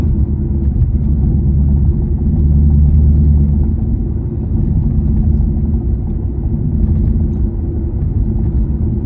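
A Ford Mustang S650 GT cruises along a narrow back street, heard as a steady, loud low engine rumble with road noise that swells slightly mid-drive and then evens out, with no talking.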